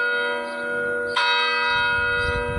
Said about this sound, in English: There goes the bell. It tolls for thee.